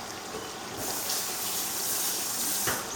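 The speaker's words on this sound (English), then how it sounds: "So it's going to add more water." Water pours into a pot of vegetable stew in a steady, close gush that swells and continues for a few seconds with no talking.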